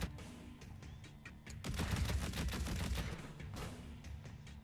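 Turrets firing in a video game, a rapid crackle of gunfire that builds to a denser, louder volley midway and then continues at a slightly lower level.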